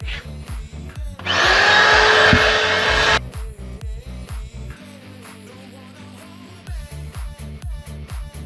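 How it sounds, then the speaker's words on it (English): A vacuum cleaner cleaning a Mitsubishi Mighty Max truck interior roars on for about two seconds, a loud, broad steady whoosh, then cuts off, with a rhythmic ticking continuing throughout. "Vacuum cleaner."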